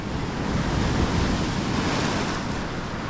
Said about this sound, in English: All the waves coming up.